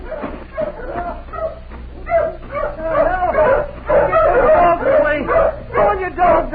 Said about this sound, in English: Now, where are the hounds?